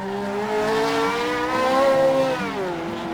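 Lamborghini Temerario hybrid supercar in the Assetto racing game, engine note rising and falling steadily through a corner, loud and close, continuous for about three seconds with no talk.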